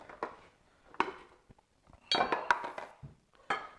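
Apples and onions being mixed in a bowl, heard as a few close, light clinks and scrapes of a utensil against the bowl with a denser stirring patch midway, quiet and without speech.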